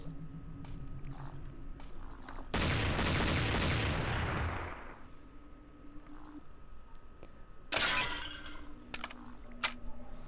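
Gunfire in a Minecraft Village custom map of NZP, a video game, two loud bursts of rapid shots, the first lasting about two seconds and the second shorter, over quieter ambient game sounds.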